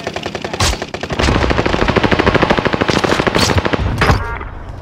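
Sustained automatic gunfire in a shooter video game, loud and close, rattling in rapid bursts for most of the stretch with a few brief gaps, as an enemy on a sniper tower is downed.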